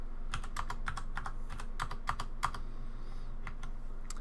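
Quiet keys clatter on a computer keyboard in quick irregular bursts with short pauses, recorded close up with no talking.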